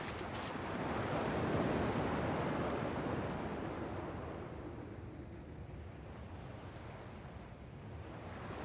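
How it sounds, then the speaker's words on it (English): Ocean waves wash in Kingdom Hearts II Final Mix, a soft continuous surf with a gentle swell early that settles into a steady low hiss, faint and without talk. "At least the waves sound the same."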